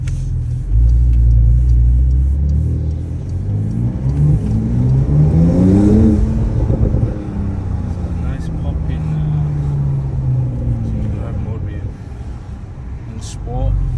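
Porsche 992 Turbo S, decat with OPF removed, in Sport Plus with traction control off, accelerating hard through rising revs with a deep engine rumble and climbing whine, heard from inside the car with people talking over it.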